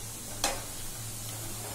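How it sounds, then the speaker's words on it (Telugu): Urad dal vadas (garelu) frying in oil: a soft, steady bubbling sizzle with one brief sharp clink near the start and a low hum beneath, nobody talking. "మంచి కలర్ వచ్చే వరకు వేయించుకోవాలి గారె"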